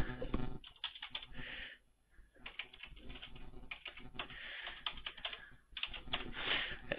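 Fingers tap out a new password on a computer keyboard, a close, quick patter of plastic key clicks in irregular bursts with a brief pause near two seconds.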